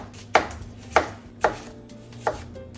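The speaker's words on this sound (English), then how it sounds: "I like to cut the apples pretty thinly" A knife slices apples thinly on a cutting board, four crisp chops spaced about half a second apart, close and clear against a quiet background.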